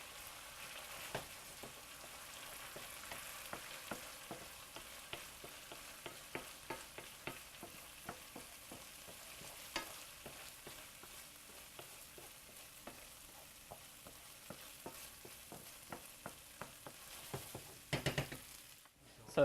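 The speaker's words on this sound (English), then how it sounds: "You'll see me stirring this a lot, and what that does, it incorporates air into the risotto." Chicken risotto is stirred in a pan, a soft, steady bubbling sizzle punctuated by frequent light taps and scrapes of the spoon, quiet and close, with a brief louder clatter near the end.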